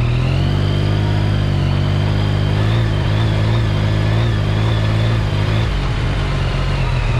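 A 2021 Yamaha Tracer 9 GT sports tourer motorcycle rides along a gravel road, its engine giving a steady, close, loud drone with a slight dip in pitch near the end.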